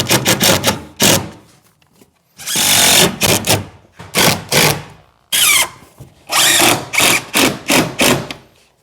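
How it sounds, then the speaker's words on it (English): A power drill drives screws into Hardie VL Plank fibre cement cladding, heard as repeated short whirring bursts of varied length with brief pauses between, loud and close, with no talk. "So we'll get a couple of screws into that."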